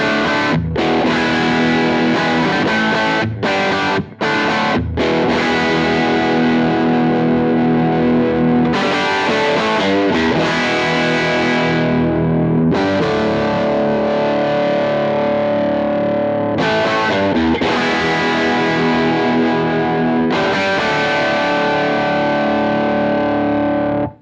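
An electric guitar plays through a Two notes Genome TITAN amp with the gain turned down, giving crunchy, driven chords and riffs with brief stops. It stays loud and continuous throughout with no talking over it.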